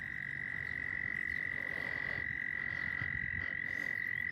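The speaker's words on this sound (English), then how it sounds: "And just like you hear these frogs" Frogs croak outdoors near the water, a loud continuous high trilling chorus with softer rough croaks layered beneath, and no voices.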